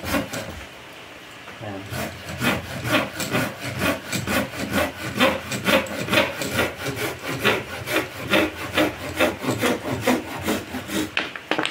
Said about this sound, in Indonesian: Gergaji tajam